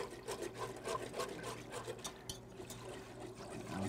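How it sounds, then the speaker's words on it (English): Milk is poured into a pan for sausage gravy, producing a quiet, continuous liquid trickle and splash with a low background hum. "Now we're gonna put our milk here."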